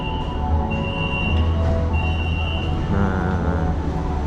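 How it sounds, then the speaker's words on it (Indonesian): An MRT train pulls into an underground station beneath the PNB 118 tower in Malaysia, a steady loud rumble with high wheel squeal and hum filling the platform throughout. "Oke, jadi MRT-nya udah sampai."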